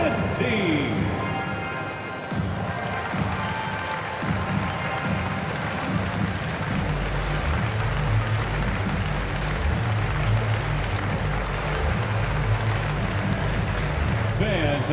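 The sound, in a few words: arena crowd applauding dance team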